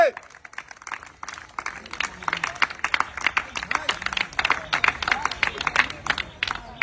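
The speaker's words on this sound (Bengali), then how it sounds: "সবাই জোরে তালি হবে" A village crowd at an outdoor game claps and cheers steadily for several seconds, with many hands at close to mid distance and a babble of voices underneath.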